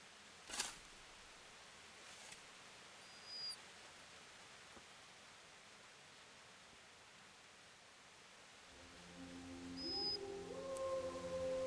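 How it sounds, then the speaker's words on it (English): Dogs in a medieval village setting of Kingdom Come: Deliverance howl faintly in the distance over quiet ambient noise, with a few sparse calls and a brief louder sound near the end. "Dogs."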